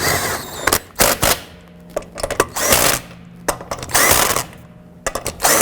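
Bolts on the front suspension of a 2007-11 Honda Civic being snugged down with a ratchet during an ABS speed sensor replacement: bursts of close mechanical clicking and metallic clatter in irregular short runs, with no talking.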